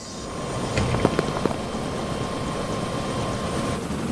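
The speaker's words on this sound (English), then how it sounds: "So it looks like I know how to fly a helicopter then." A Lego toy helicopter drones steadily nearby in a cartoon, its rotor and engine noise continuous, with a few brief knocks and clicks early on.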